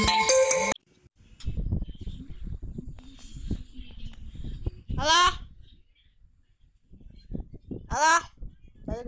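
A phone ringtone goes off during a video game stream, first a loud harmonic burst at the start, then two brief bright electronic trills later, with game sounds and talk in between.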